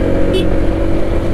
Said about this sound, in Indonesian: Kita coba akselerasinya menyalip truk apa namanya jagung ini.